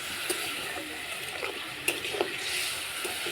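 Spice paste cooked down with a little water sizzles softly in a pan, a steady close hiss with a few light scrapes and taps of stirring, fairly quiet and without speech.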